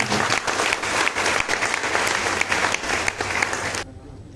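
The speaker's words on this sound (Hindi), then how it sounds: "जोरदार तालियां" Loud, dense applause rises from the audience at a Sarna prayer assembly in West Bengal, sustained clapping for about four seconds before stopping abruptly.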